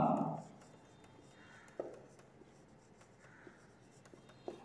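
Pen or chalk writing out a trigonometry proof by hand, faint scratchy strokes and light taps spaced irregularly in a quiet room, following a short burst of speech at the start.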